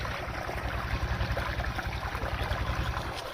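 Water running steadily while irrigating a grass field in a rural village, a continuous broadband rush with low rumbling, fairly loud and close, with no voices.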